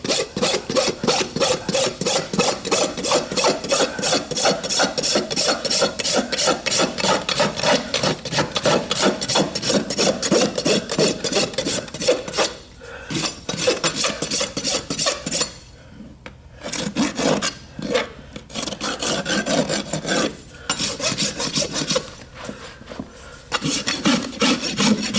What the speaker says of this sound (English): We use the new Prime Finish Plus. New finish file made by Bellota.